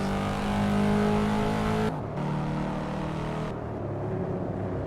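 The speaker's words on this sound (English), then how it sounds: "the exhaust note sounds good" Steady engine drone of a racing car in the video game Assetto Corsa on an Asus ROG Ally, a continuous revving exhaust tone that dips briefly with a gear change, then carries on at high speed.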